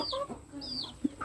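A rice chicken clucks in short, bright bursts close by, with a few soft scattered clucks between and no talk.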